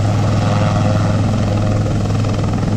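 A military helicopter at an air show gives off a loud, continuous rotor thump and turbine roar, steady and close throughout with no voices.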